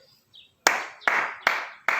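Applause at a live tribute gathering starts as four loud, evenly spaced claps, each sharp and close with a ringing tail, after a brief quiet moment.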